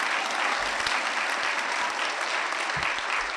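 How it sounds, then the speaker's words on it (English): Steady applause from a room full of people at a school-district luncheon honoring teachers and employees of the year, a uniform wash of clapping at moderate distance with a few low thumps underneath. "Give these folks in this room a round of applause."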